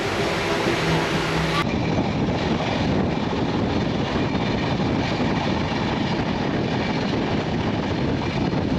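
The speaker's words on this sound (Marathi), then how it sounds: "ट्रेनमध्ये आता आम्ही बसलो आहे आणि ट्रेनसुद्धा सुटलेली आहे" Continuous rumbling and rattling of a moving train from inside a carriage, broad and steady, after a brief louder start.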